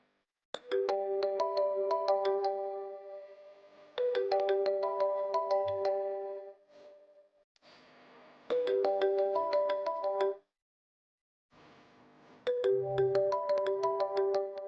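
A telephone ringtone plays a repeating melodic phrase four times, separated by short pauses, clear and alone.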